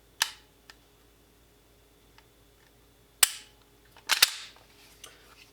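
Dry trigger breaks and resets of a Canik TP9 Elite Combat pistol, a few sharp isolated clicks spaced seconds apart, close and crisp against near silence, with fainter small ticks between them.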